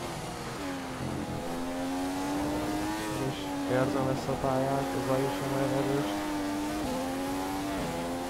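Ferrari Formula 1 car in the F1 2015 racing game, Russian Grand Prix, its high-pitched engine whine rising and falling through gear shifts and revs, running steadily under a voice talking over it.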